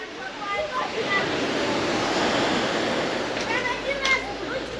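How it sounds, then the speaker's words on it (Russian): Sea waves wash onto a Black Sea beach at Lazarevskoye in October after a storm, a continuous rushing surf with soft swells rising and falling, heard fairly close and filling the whole scene. "Только море."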